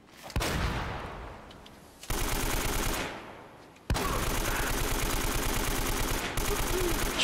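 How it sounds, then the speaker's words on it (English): Gunfire in the video game Uncharted: Drake's Fortune, with loud booming shots followed by sustained rapid automatic bursts, close and dense, with short pauses between volleys. "Shotguns are killer."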